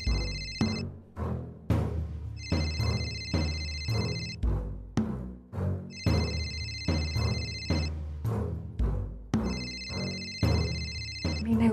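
A phone ringtone plays in repeated bursts in a Marathi TV serial scene, its electronic tones alternating with other sounds at moderate volume.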